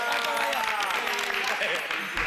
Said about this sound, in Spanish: Vamos a darle también una ovación a Amalara